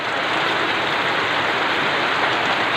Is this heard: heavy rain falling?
yes